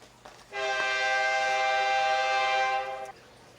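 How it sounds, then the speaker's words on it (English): A passing train sounds a long, steady horn blast of about two and a half seconds, loud and sustained, set against a quiet background with no talk. "I had to shut that off because we had our train go by"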